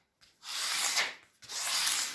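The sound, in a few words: scraping off tape and paper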